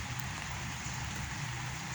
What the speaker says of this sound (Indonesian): Dan di sini masih hujan rintik-rintik.